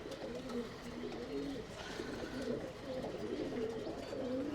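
Tumbler pigeons coo in a loft, soft repeated low cooing calls rising and falling in overlapping phrases against a steady background hum, with no voices.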